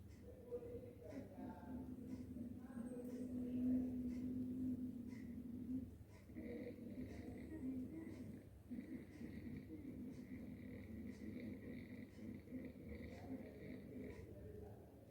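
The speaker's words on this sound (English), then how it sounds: "this is hissing sound occurring while we are closing our mouth" Ujjayi pranayama breathing with the mouth closed, a faint, continuous hiss through the throat that swells and fades slowly with each long breath.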